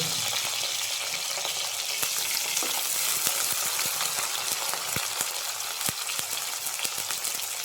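Garlic, ginger and crushed small shallots fry in hot oil in a curry pan, a steady loud sizzle broken by scattered sharp scrapes and taps of a spoon stirring, with no talking.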